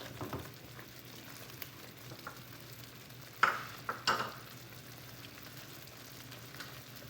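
A low-carb shrimp Alfredo sauce with melting cheese is stirred in a pan: a quiet bubbling simmer with a couple of distinct spoon scrapes near the middle and no voices.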